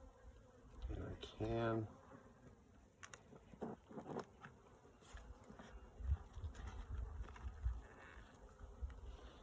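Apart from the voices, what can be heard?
honey bees buzzing around an opened hive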